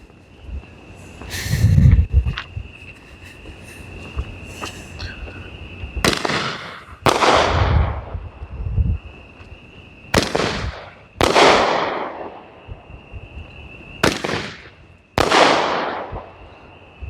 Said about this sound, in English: Nice loud break on that.